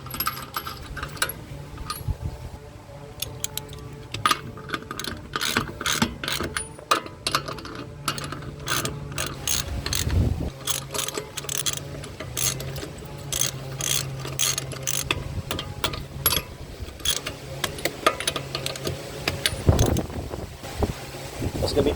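Ratchet wrench tightening front brake bolts on a 2020s Mitsubishi Xpander, with repeated rapid clicking bursts over a steady mechanical hum and some wind noise. The clicks run close and continuous for over twenty seconds.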